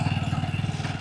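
A 1998 Hero Honda Splendor motorcycle engine putters in a fast, even thump close by, with a rhythmic low pulse throughout.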